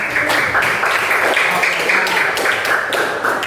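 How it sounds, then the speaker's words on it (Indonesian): Students in a classroom clap for classmates who are presenting, a short run of fairly close, uneven clapping from a small group with a few distinct slaps, no talk over it. "Boleh tepuk tangan dulu buat teman-temannya."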